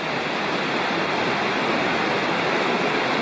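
Steady, full rushing of Sycamore Creek in the Cherokee National Forest, a continuous broadband wash with no breaks and no voices.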